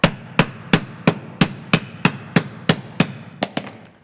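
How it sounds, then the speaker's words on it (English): Steady hammer blows ring out on a metal bangle, about a dozen sharp strikes at an even pace, close and clear, the last few lighter and quicker. "I need to hammer harder"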